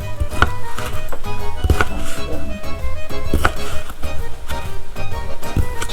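Small, pretty kitchen knife chopping mushrooms on a board while making calzone, with sharp regular knocks sounding up close against a steady low background.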